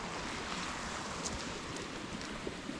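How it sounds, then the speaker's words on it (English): Floodwater pours fast over a spillway and dumps into a creek, making a constant broad rushing roar that stays steady throughout, with faint wind buffeting the microphone and no voices. "That spillway is coming out so fast, dumping into that creek over there."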